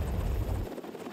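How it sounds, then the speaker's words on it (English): A Navy SH-60 Seahawk variant helicopter flies overhead with a loud, steady rotor rumble and whine, then the low thump drops away as it passes. "These helicopters are made to take off and fly in winds that can exceed 100 miles per hour."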